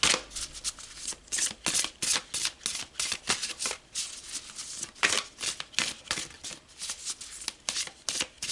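A deck of tarot cards is shuffled close up in quick, rhythmic bursts of crisp riffling and flapping, repeating steadily with short gaps and no talk.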